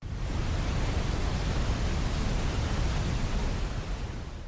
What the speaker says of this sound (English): Brown noise is even lower in pitch. This makes a pleasing sound.